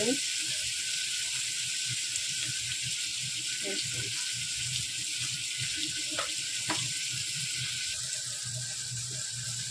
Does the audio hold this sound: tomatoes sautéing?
yes